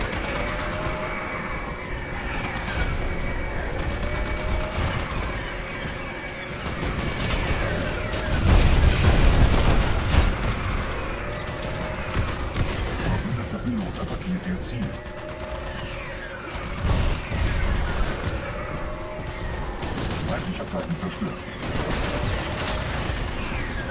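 Dense, continuous gunfire and explosions from the game Titanfall roar throughout, with machine-gun bursts and heavy blasts layered over mechanical combat noise and a booming peak midway, while players talk over it.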